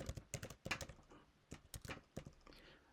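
Quiet, close typing on a computer keyboard, bursts of rapid keystrokes with brief pauses in between, no speech.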